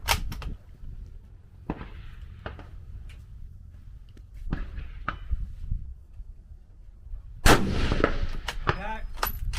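Precision rifle shots ring out at a PRS long-range match: half a dozen sharp, separate reports at irregular intervals, mostly moderate and somewhat distant, with a louder, closer crack near the end followed by a ringing tail.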